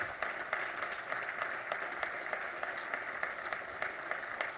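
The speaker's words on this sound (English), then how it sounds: "A round of applause for Hall of Famer Ron Maurer" Audience applause at a college athletics Hall of Fame ceremony, a steady, even patter of many hands at moderate distance, continuing without a break and fairly soft.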